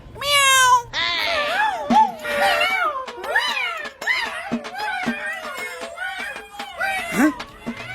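A cat meows again and again at close range, loud, drawn-out calls rising and falling in a steady string that fills the whole stretch with no other sounds.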